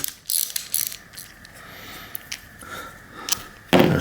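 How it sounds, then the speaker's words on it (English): A ratchet wrench works a 5mm Allen bolt out of an Avid BB7 bicycle disc brake caliper, giving close, irregular metallic clicks and ratcheting bursts, with one louder scrape at the end. "get like a ratchet wrench here and remove this bolt here"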